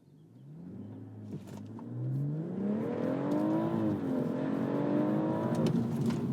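A BMW M140i launches hard off a brake boost, its engine note climbing steadily from a low rumble into a loud, sustained high-revving roar heard from inside the car.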